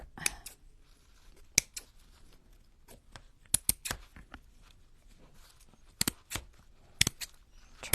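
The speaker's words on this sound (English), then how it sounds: "Where'd my scissors run off to? So I'm just going to go for it." Scissors snip through paper in crisp, close, irregular cuts, some in quick pairs and others spaced apart, against a quiet background while a junk journal page is trimmed.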